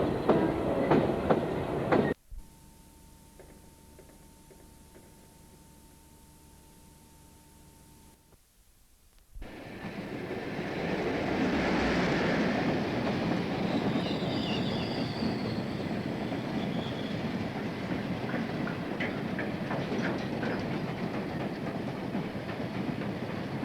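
Freight train of empty coal wagons on the Harworth branch near Maltby Colliery, rolling past after a quieter stretch, with a loud sustained rumble and clatter of wheels, faint squeals, and a steady wash of wagon noise continuing to the end.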